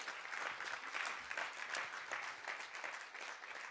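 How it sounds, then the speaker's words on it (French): A room of symposium attendees claps for a few seconds, a soft, fairly distant, even patter of many hands. "On peut les applaudir."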